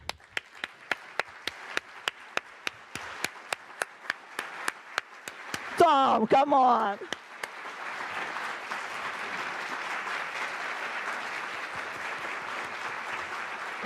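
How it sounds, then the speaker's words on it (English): At a climate summit in New York, a few isolated, sharp hand claps ring out in slow succession, a voice speaks briefly, and then broad audience applause swells and continues evenly. "I really think that you deserve a round of applause"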